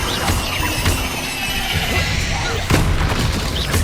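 Fiery Confringo blast spells explode in combat in the video game Hogwarts Legacy, a dense series of loud booming, crackling impacts with sharp bursts near the start and again late, overlapping shouted spell-casting voices.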